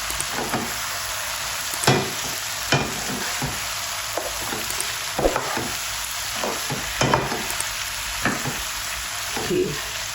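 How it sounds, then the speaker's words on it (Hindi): Okra with masala fries and sizzles steadily in a pan over high heat, with a continuous close hiss broken by repeated scraping stirs of a utensil and no talking. "अब तेज़ आंच पे हम 2 मिनट 3 मिनट इनकी भुनाई करेंगे।"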